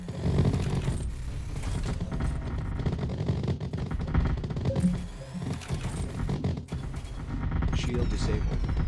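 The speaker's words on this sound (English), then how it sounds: "Mortars are going again." Mortar fire in the video game Artificial Extinction, a dense run of rapid overlapping bangs and thuds continuing throughout with a few louder impacts mixed in.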